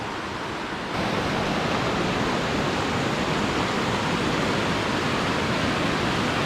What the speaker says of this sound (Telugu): ఇదే ఆ వాటర్ ఫాల్స్.